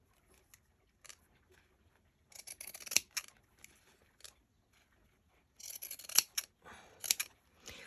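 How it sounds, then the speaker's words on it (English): Pinking shears snip through fabric in short bursts of crisp, close cuts, with quiet gaps between clusters of chomping blade sounds. "I'm using the pinking shears because it keeps it from, you know, making a huge frayed mess everywhere."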